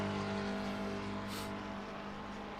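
A race car engine in a sim racing game at Paul Ricard hums steadily at moderate loudness, with a brief hiss of passing noise midway.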